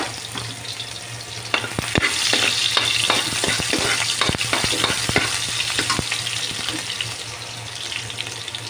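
Garlic and onions frying in a little oil for pork giniling, sending up a continuous loud sizzle over a low hum, broken by frequent sharp clicks and scrapes of stirring, close up and with no talking.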